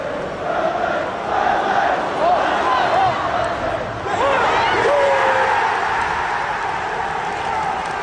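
Football crowd roaring at Old Trafford during a Manchester United match against Burnley, a loud continuous mass of voices with chanting swells and whistles, surging again midway.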